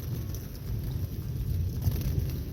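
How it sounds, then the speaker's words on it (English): Heavy rain falling on a campsite beside a fire along the Appalachian Trail in Virginia, a steady close hiss and patter with low rumbling underneath, no talking. "the rain started coming down heavier than the little bit of cover I had next to the fire"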